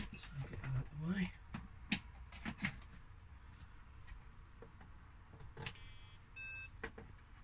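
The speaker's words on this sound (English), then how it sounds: "Boop beep, which is perfectly normal. Nice beep type sound." A BBC Micro Model B home computer, freshly recapped, gives its short power-on boop-beep, a brief two-tone electronic chirp near the end, quiet, over faint room noise and a little talk.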